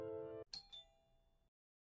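A doorbell rings indoors in a quiet room, a sustained tone followed by a brighter two-note chime that fades out.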